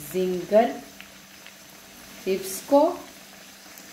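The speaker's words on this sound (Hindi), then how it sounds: "ये हमारे तकरीबन फ्राई हो चुके हैं, तो बस अब हम इनको निकाल लेते हैं" Potato zinger chips frying in hot oil make a soft, steady sizzle beneath a person talking, who dominates throughout.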